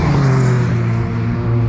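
A race car drifting through a corner at Anglesey during a time attack round, its engine a loud, steady roar held close throughout with a sustained low drone.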